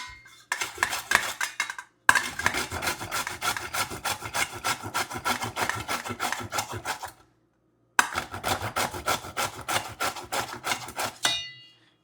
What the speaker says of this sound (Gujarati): હવે દૂધી ધોઈ કાઢી ને હવે છીણી કાઢીએ।